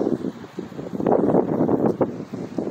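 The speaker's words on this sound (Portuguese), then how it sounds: "Aqui venta um pouco, tá? Não repara não, mas venta mesmo. Venta com força." Strong seaside wind buffeting the microphone in gusty low rumbles, steady and close, with no voices.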